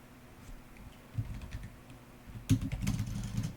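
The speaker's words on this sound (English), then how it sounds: "I'm just going to type in int main void." Code is being typed on a computer keyboard in quick, irregular runs of soft clicks, close and fairly quiet, starting sparse and then growing busier with a sharper keystroke partway through, and no voices.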